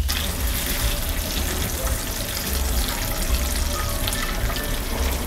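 Raisins sizzle steadily in plenty of butter in a pan, a continuous close crackling hiss with no pauses.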